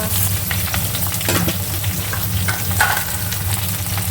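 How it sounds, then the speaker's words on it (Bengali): Mixed vegetables frying in mustard oil, including sweet potato, green banana, potato, carrot, beans, papaya and drumstick, a dense close sizzle with occasional scraping stirs throughout. "এবার এতে এক এক করে সব সবজিগুলো দিয়ে ভাজা ভাজা করব"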